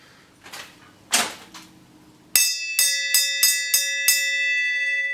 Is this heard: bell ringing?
yes